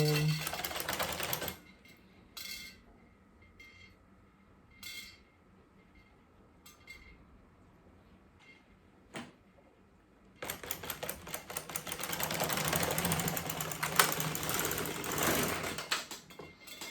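The carriage of an LK150 knitting machine slides across the needle bed, making a loud, busy clattering run near the end. Earlier there are scattered clicks and quiet stretches.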